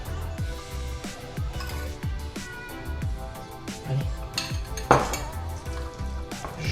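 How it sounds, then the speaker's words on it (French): A spoon works through a celeriac purée mixed with grated parmesan in a dish, giving soft repeated scraping and sticky stirring strokes with occasional clinks against the dish, close and steady, no voices. "Je mélange tout ça."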